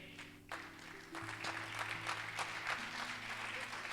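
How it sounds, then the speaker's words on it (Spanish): A church congregation claps along during a worship service, the applause swelling after a soft start and continuing steadily over sustained organ or keyboard tones. "Palmas a nuestro Dios."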